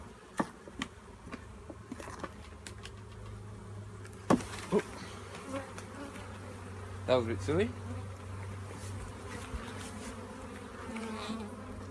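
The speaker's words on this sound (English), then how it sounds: "The bees are working on here." Steady buzzing from a crowd of bees at an open hive during a hive check fills the background, with a few sharp knocks and a brief remark from a nearby voice.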